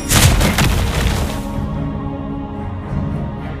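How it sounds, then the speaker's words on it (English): A turret-destruction explosion in the game Mobile Legends: a loud booming blast at the start that rolls into a sustained rumbling decay, with no talk over it. "Our turret has been destroyed."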